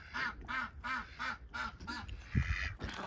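A rapid series of duckling quacks, about seven in a steady rhythm, then a brief scuffle and rustle; close and fairly quiet, on a farm in snow.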